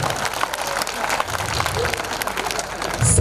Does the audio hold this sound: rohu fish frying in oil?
no